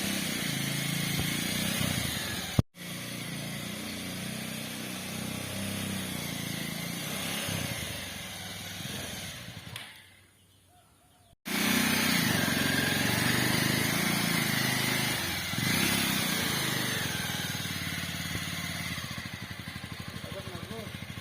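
A motorcycle engine fitted in a homemade mini jeep runs steadily and loudly for most of the stretch, drops out briefly, then roars back up.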